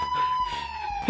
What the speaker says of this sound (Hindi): लगता है एम्बुलेंस का सायरन है।